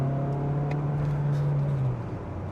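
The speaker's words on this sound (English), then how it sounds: "As the revs get higher, it does actually accelerate a little bit harder" Mazda CX-30 mild hybrid engine droning under acceleration, a steady tonal hum with clear harmonics that holds, then drops in pitch near the end, heard from inside the car.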